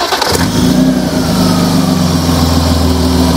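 A BMW E34 with an M50 engine without Vanos runs loud and close, a brief revving burst at the start settling into a steady, smooth idle-like drone.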